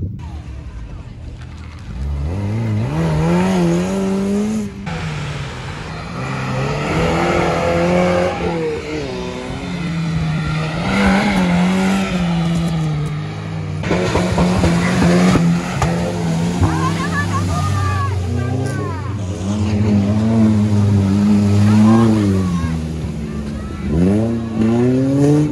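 Lada Niva off-road race car at a Krasnodar off-road event, its engine revving and straining through changing pitches as it drives the course, loud and close, with someone talking over it throughout.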